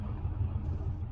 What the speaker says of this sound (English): We're on a concrete torn up section of the road here in California, so don't let this road noise influence your opinion.